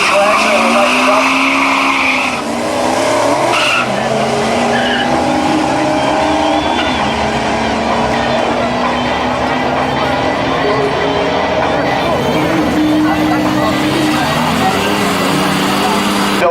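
Cars at a Beretta drag racing meet in 2003 roar loudly with engines and tire squeal close by, while an announcer talks over the racing noise.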